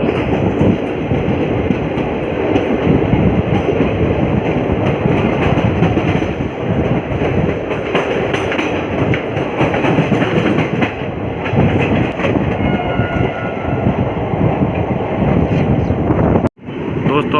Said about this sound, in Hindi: कम से कम आधा से पौन घंटा रुकने के बाद हमारी ट्रेन को डिपार्ट किया गया है लोधीपुर बिशनपुर से